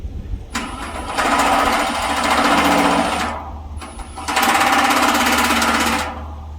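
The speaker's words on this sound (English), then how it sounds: "Now we'll go ahead and put the rest of the screws in." A power drill drives screws into the panel of a home AC condenser unit, giving two sustained, loud whirring bursts of a few seconds each, close by, with a brief pause between them.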